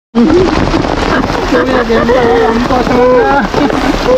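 Heavy rain pours down steadily as a dense, continuous roar, with voices talking over it.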